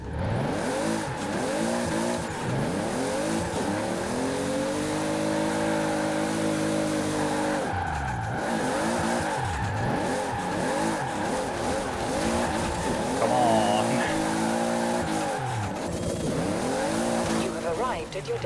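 A Toyota Supra MK3/A70 drift build in Forza Horizon, its engine revving and droning in long sweeps with tire squeal while sliding, loud and continuous, with a voice talking over it.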